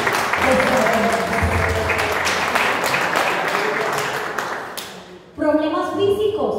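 A church congregation breaks into sustained applause, dense and loud, for several seconds, then fades as a voice begins speaking.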